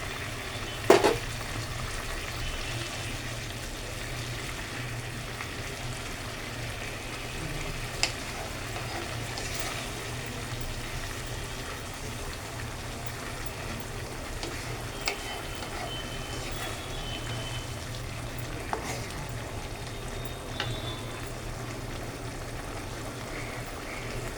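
Potatoes and fish go into a pot of cooking rice for a katla fish-head muri ghonto, giving a steady sizzle and bubbling with occasional faint clicks and knocks of utensils, with no talking.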